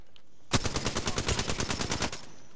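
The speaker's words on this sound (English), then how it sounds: "Opening fire." In the video game Apex Legends, a single sustained burst of rapid automatic gunfire rattles for about a second and a half, sharp and fast-paced, with no voices over it.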